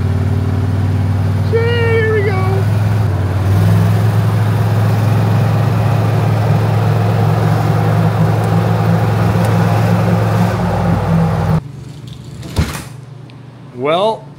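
Custom golf cart engine running while being driven, a steady low hum and rumble close by for most of the span, ending abruptly into quieter handling noises and brief knocks.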